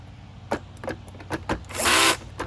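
A power drill drives screws into the housing of an Oreck XL vacuum during a tune-up, with several short whirring bursts followed by one longer, louder run near the end, close and without any speech.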